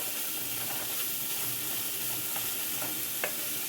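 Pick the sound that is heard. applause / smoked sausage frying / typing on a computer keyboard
smoked sausage frying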